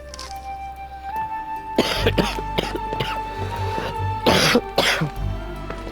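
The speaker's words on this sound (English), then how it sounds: "Excuse my coughing." A grandfather coughs in several harsh, rasping bursts with throat clearing, close and fairly loud over a steady low hum and a sustained tone.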